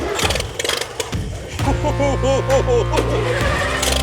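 An old tractor engine cranks with a mechanical starter and catches, settling into a steady low running drone with whining tones, after brief talk.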